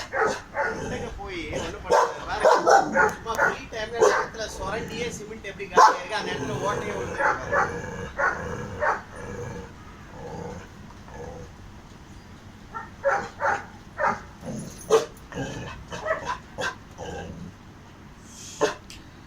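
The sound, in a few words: dogs of different breeds barking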